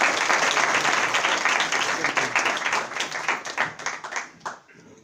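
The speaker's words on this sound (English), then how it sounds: "I'd ask that we welcome him with a round of applause." An audience at a memorial lecture claps to welcome a professor, with dense, loud applause that thins into scattered claps and fades out.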